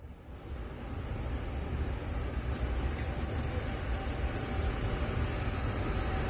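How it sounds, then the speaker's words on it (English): A westbound freight stack train with NS and BNSF warbonnet locomotives rolls past as a loud, steady low rumble with wind buffeting the microphone. "Here comes a westbound stack with a NS unit and a BSF warbonnet trailing."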